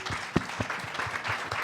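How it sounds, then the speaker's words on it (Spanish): Small audience applauding the illustrator, author and editor at a book presentation evening, a modest scattering of claps with a few louder individual hand claps standing out. "pido un gran aplauso a los tres"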